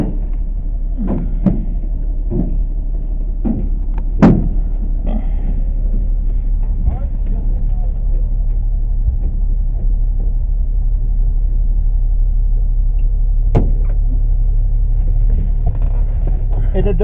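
Heard from inside, a 1936 Nash coupe drives along with a steady low engine rumble, while a voice talks over it and occasional knocks and creaks break in.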